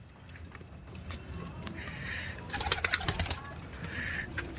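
Madras pigeons close by, with soft calls and a few brief flutters over a steady outdoor background hum.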